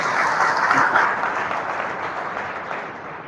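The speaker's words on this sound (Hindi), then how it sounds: "बहुत बढ़िया, जोरदार तालियां अपने लिए" Hearty applause from a young school and college audience at a spiritual talk, strongest at first and then gradually thinning and fading over a few seconds.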